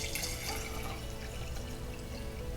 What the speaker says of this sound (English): You pour good water.